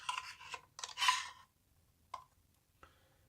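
An SSD slides into a portable drive enclosure with a close, scraping rasp in short strokes, followed by a pause and two crisp little clicks as it seats; no one speaks.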